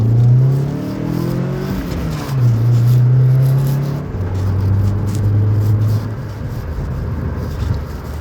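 An MG ZR 120 hatchback with a 1.8 engine revs during a test drive, the engine note climbing, dropping and settling into steady drones at several pitches, with no talk.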